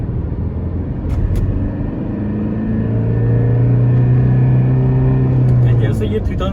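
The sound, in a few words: Tata Harrier engine booming while accelerating in second gear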